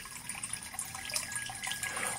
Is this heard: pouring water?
yes